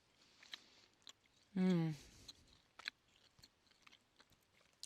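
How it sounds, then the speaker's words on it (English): Someone chews a little snack close to the mic, with soft, irregular crunchy clicks and a brief loud hummed vocal sound partway through, in a quiet room. "Pardon my chewing."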